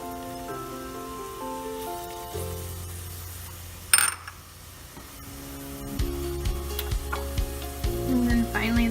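Onions drop into a hot pot for potato soup with a sudden sharp burst, then sizzle and fry steadily, while music plays underneath.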